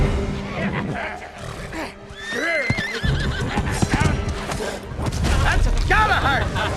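A horse whinnies loudly in a battle scene from the fantasy TV series The Rings of Power Season 2, with clattering hooves, several rising neighs and heavy action sounds throughout.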